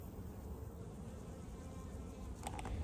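A honeybee colony hums steadily at a busy hive entrance in summer, a close, dense buzz of many bees coming and going, with one louder bee briefly passing near the end.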